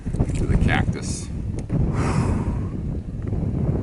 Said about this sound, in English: Pretty windy, nice and cool right now